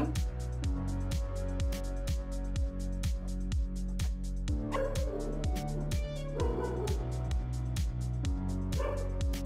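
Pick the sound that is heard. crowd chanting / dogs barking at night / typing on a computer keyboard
dogs barking at night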